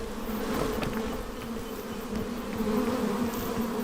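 Bees buzzing in the climbing video game PEAK, a close, continuous droning hum with wavering pitch and small surges in loudness, heard alone without speech.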